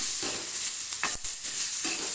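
Whole coriander and cumin seeds frying in a pan, with a steady soft sizzle and a few light scrapes of stirring, no one talking.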